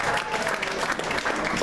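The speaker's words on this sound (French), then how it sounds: "Si nous tous nous avons reçu Jésus, acclamons seulement pour Jésus" Congregation clapping and cheering in a church during a large gathering, dense burst of many hands applauding close by with crowd voices mixed in throughout.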